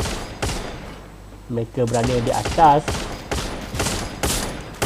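Rapid bursts of gunfire in a competitive video game match, loud repeated volleys through most of the stretch while a commentator talks over the middle.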